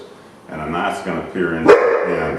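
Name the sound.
dog barking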